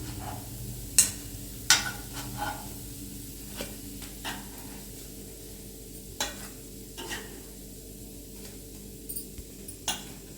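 Kuzhi paniyaram frying in oil in a village-style paniyaram pan makes a faint, steady sizzle, with a few sharp clicks and scrapes from stirring or turning the batter.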